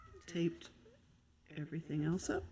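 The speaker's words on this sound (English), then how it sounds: "And I apologize for my cat." A house cat meows a few times at close range, its calls mixed in with a person's talking in a quiet room.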